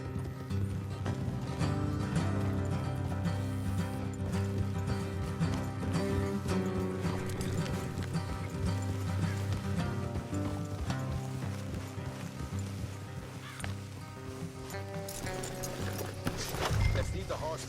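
Horses clip-clop along a road in the Western video game Red Dead Redemption 2, their hoofbeats steady under a continuous bed of music and voices speaking throughout.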